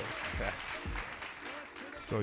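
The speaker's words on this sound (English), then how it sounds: "Let's give the hand claps to Doir." A few loose hand claps for a guest on a casual NBA playoff talk show, sparse and uneven, mixed with people talking close by in a small room.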